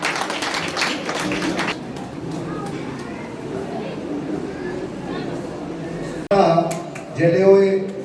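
An audience at a Dr. B. R. Ambedkar Jayanti gathering in Rajpura claps for a couple of seconds to welcome guests, including an honoured ex-minister. The applause fades into amplified talk from the stage.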